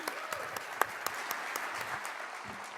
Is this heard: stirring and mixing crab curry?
no